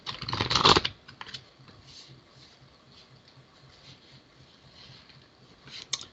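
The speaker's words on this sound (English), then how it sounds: "I'm going to cut the deck" A deck of tarot cards being cut, heard as a short burst of dense riffling and shuffling that lasts under a second, then quiet handling and faint rustles, with a small flick near the end.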